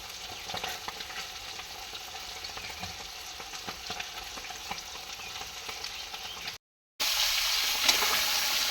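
Fish, parshe or amuda, frying in a pan at home, a low steady sizzle with occasional stirring ticks, then a short break and a louder, brighter burst of frying to finish, no voices.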